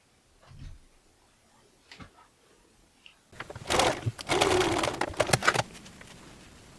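A sewing machine stitching an upcycled shirt, with a few quiet taps and clicks followed by a close, fast mechanical whirring run of needle strokes lasting a couple of seconds before it stops.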